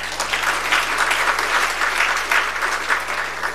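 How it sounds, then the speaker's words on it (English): An audience at an Agricultural Research Council event applauds the council chairperson, a continuous, even patter of many hands clapping, fairly close, with a low steady electrical hum underneath. "Please, you can clap,"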